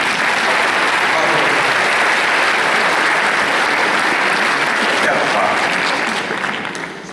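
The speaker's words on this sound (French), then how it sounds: "on vous applaudit" An audience at an evening talk on ending pain breaks into applause for a man about to turn 70; dense, loud clapping from a crowd, steady for several seconds before fading.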